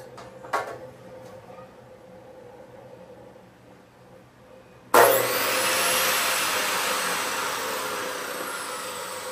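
An INGCO 14-inch cut-off saw for metal and steel bar starts abruptly after a few seconds of quiet room noise, then runs as a loud, steady, high-pitched whine that holds to the end.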